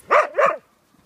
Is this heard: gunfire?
no